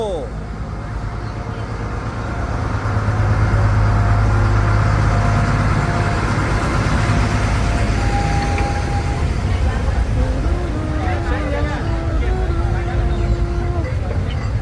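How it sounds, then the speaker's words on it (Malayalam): A small bus-like tourist train rumbles along steadily through Kailasagiri, Visakhapatnam, its low engine drone filling the scene while people chatter and call out over it. "ബസ് പോലുള്ള ട്രെയിനാണ് വിശാഖപട്ടണത്തെ കൈലാസഗിരിയിലൂടെ ഓടിക്കൊണ്ടിരിക്കുന്നത്"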